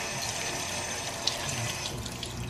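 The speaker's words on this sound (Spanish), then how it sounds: "Y ahora sí vamos a enjuagar." Warm tap water runs steadily into a sink as makeup brushes are rinsed clean of Sigma brush soap, a continuous close splashing wash with small spatters and no talking.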